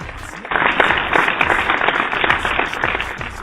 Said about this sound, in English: So let's welcome with a wonderful round of applause, Mr. Dan Lok, the man.